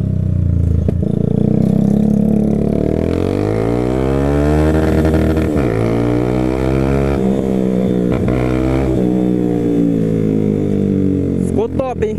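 Yamaha Fazer 250 motorcycle with a sport exhaust, revved up and down in repeated swells, loud and close, with a pulsing exhaust note.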